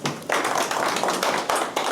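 Applause from a seated audience at the close of a business briefing on marine battery subsidies, a dense, steady wash of many hands clapping at moderate distance with no speech over it.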